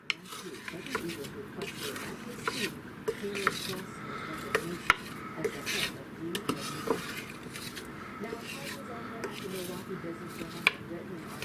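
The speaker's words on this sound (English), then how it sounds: "now let's give them another little stir" Hot dog burnt ends being stirred in a pan, with repeated soft scraping and clattering of the utensil against the metal and a faint sizzle underneath, all close and fairly quiet.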